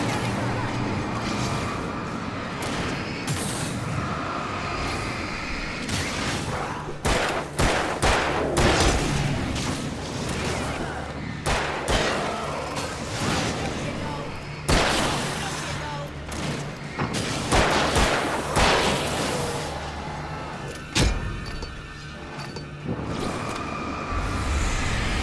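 Gunfire in the Alan Wake video game, repeated sharp shots and bursts scattered through a noisy, busy battle scene, loud and close, with a voice speaking at times in between.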